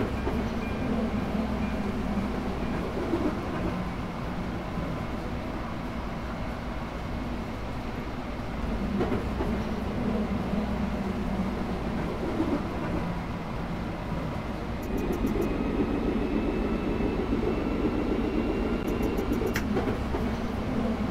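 A Tatra tram in a driving simulator game hums and rolls steadily along its track, with a low motor drone rising as it departs and a few faint bell-like dings near the end.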